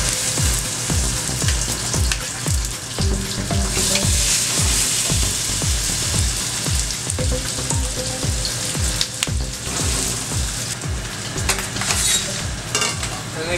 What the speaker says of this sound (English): I have a little bit of oil in here, but you don't want too much, because a lot of this fat's gonna start to come out.